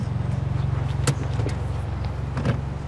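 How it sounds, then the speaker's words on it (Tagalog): A car idles with a steady low engine hum while being parked, close and even, with a couple of brief sharp clicks or knocks over the drone and no talk. "Park ko lang tong kotse."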